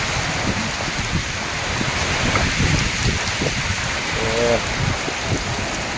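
Heavy, steady rain pours in a strong storm-like wind, a dense, loud roar of drops that hardly varies; a faint voice may be heard briefly beneath it.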